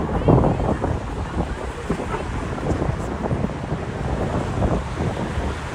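Strong wind buffets the microphone in a continuous low roar, with a faint wash of water and waves underneath, by the waterfront in Brooklyn, New York, at night.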